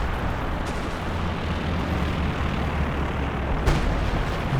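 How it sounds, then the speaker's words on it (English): Howitzer artillery fire in Company of Heroes 2 rumbles through a dense battle din, with a couple of sharp distant impacts breaking the steady roar. "Got a Howie fire coming in out the back here as well."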